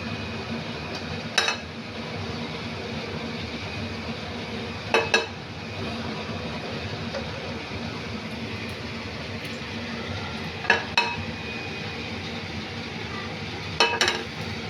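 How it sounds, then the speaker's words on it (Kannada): Chilli garlic paneer shallow frying on an oiled tawa, with a steady low sizzle throughout and a few sharp metallic clinks of a utensil against the pan. "ಸೊ ಇವಾಗ ನಾನು ಮತ್ತೆ ಶಾಲೋ ಫ್ರೈ ಮಾಡ್ತಾಯಿದ್ದೀನಿ."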